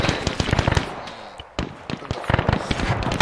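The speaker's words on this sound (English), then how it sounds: "Where did those shots come from? Where did that grenade come from?" Gunfire and a grenade blast in an ArmA3 World War II Omaha Beach battle: rapid bursts of sharp shots, a heavier explosion around the middle, then more scattered cracks, loud and close.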